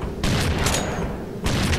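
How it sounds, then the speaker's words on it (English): Bursts of gunfire from the first-person shooter Unreal 2, two dense broadband volleys separated by a short lull, loud and close with a low rumble beneath. "I'm hearing gunshots,"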